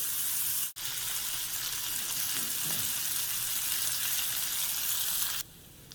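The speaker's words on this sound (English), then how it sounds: "I'm going to cook that until it starts to release all the oil and it gets nice and crispy" Bacon sizzles and crackles steadily in a frying pan as it cooks until crispy, a dense broadband fry with a brief dip near the start and a sudden drop in intensity near the end.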